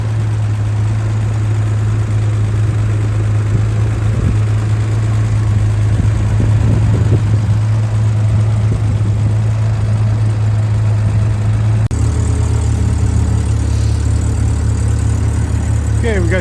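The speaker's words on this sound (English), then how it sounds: "everything else is running smoothly underneath the hood" A John Deere M38 tractor engine idles after a winter warm-up, a loud, steady low rumble that runs throughout, its tone shifting slightly near the end, with a voice talking over it.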